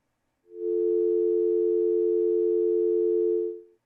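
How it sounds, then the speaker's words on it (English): A steady, continuous telephone dial tone hums at a constant pitch for about three seconds, then stops. "it's got a dial tone, and it's not working"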